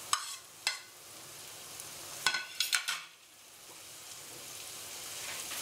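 Butter and cumin powder sizzling in a hot pan for mushroom masala, a soft steady crackle with several sharp clinks and scrapes of a spoon against the pan, no voices.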